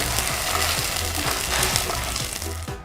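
Chopped onions and ginger garlic paste sauté in ghee with a dense, continuous sizzle and frying crackle. Faint stirring sounds run beneath it.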